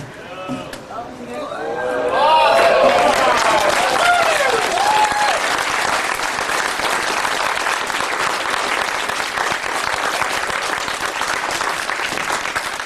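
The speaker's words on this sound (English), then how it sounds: "Big round of applause again." Loud crowd applause at a Classic Gaming Expo auction swells up after a moment of speech and cheering, then continues as steady, dense clapping for several seconds.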